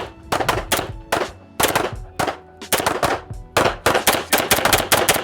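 Rapid string of handgun shots during a firearms training drill at a range, roughly fifteen loud, sharp reports in uneven bursts, some quick doubles and triples, with no talking.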